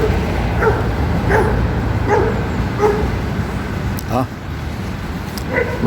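Dogs bark and yip repeatedly in a regular rhythm while playing and fighting outdoors, the sharp barks moderately near amid a constant noisy background.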